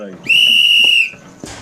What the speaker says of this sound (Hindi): तो वो किले के अंदर जा ही रहे थे कि तभी किसी की सीटी की आवाज आई